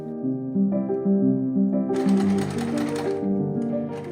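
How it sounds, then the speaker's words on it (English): A domestic sewing machine runs a zigzag stitch attaching bottom band elastic for a lacy strapless bra, its needle clattering in a quick steady rhythm with a motor hum, close and clear, alone without talk. "now I'm adding the bottom band elastic, which is done using a zigzag stitch"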